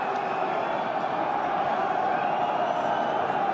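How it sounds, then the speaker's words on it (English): Stadium crowd at a Connacht vs Ospreys Guinness PRO12 rugby match, a dense, continuous roar of many voices at steady high volume throughout. "Just listen to the crowd."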